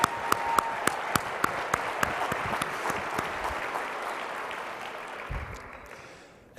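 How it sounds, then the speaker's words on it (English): Audience applause at an awards banquet, a steady body of clapping with a few sharp, nearby individual claps standing out early on, gradually fading toward the end. "Let's give another round of applause for Naja."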